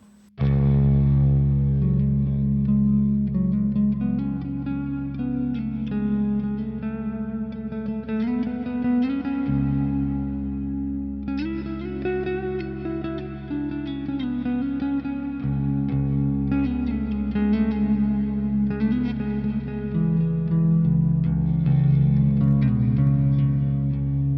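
Electric guitar playing sustained open-string drones and pedal tones through distortion, chorus, echo and reverb pedals in a post-rock style, a thick washy layered texture with slowly shifting notes over about twenty-four seconds, no voices.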